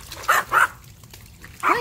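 A pet dog at home gives two quick sharp barks close by, then after a short pause a third bark, loud and clear against a quiet room.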